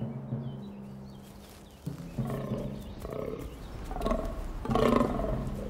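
Fallow deer stags call during the autumn rut in the misty Tatras of Slovakia, a series of deep, rough groaning roars rising in loudness, several overlapping calls at moderate distance outdoors.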